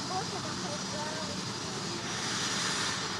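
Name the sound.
aeroplane taking off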